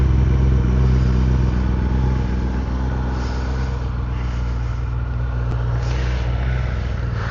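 A Kawasaki ZX10R sport motorcycle engine idles with a deep, steady, growling exhaust rumble, close and constant throughout, with no voices.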